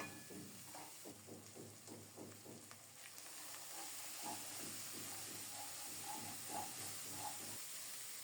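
A masala of spices with a little red chilli powder fries in a pan for a dish of banana flower, a faint continuous sizzle with soft stirring scrapes throughout.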